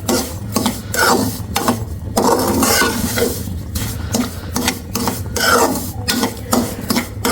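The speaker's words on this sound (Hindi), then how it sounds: "अभी भी चम्मच मुसलसल चलाना है" A spoon keeps stirring semolina in melted desi ghee for panjeeri, giving a steady rasping scrape with soft sizzling, close and continuous with rhythmic strokes and no talk.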